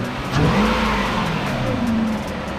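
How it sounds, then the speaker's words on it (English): A Toyota 3UZ V8 engine with brand-new coils is revved close by, giving a loud, steady mid-pitched roar that swells in a rising rev and then settles back. "Give it a rev."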